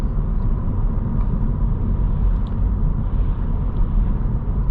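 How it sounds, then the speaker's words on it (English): Engine of a 2022-2024 Honda Civic Sport 2.0 manual as revs fall, a steady, loud low drone and rumble that holds evenly without talk. "And I'm dropping through the rev range right now."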